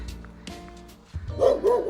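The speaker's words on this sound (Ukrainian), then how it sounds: "Ну і лютий пес." A fierce dog in a mountain village in the Verkhovyna area barks several times, the barks growing louder toward the end over faint outdoor background.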